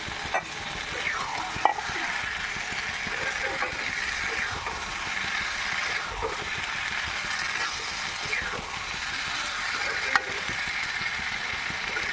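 Diced potatoes frying in an oiled pan for a brown potato and Gobindobhog rice ghonto, a steady broadband sizzle running throughout with occasional scraping strokes of a spatula stirring, close and fairly even in level.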